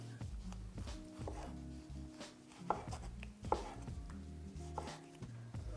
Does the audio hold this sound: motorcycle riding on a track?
no